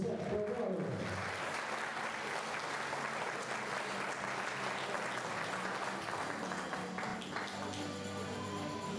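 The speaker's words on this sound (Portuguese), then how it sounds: "uma salva de palmas a Pedro José Teodoro." Sustained applause from an audience honors a man at a sports memory ceremony, a brief voice at the start giving way to steady, even clapping that fades slightly toward the end.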